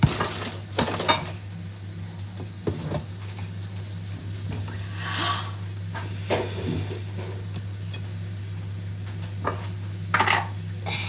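A utensil scrapes and knocks around a bowl as chocolate cake batter is stirred at home, with intermittent clinks and soft squishing over a constant low electrical hum.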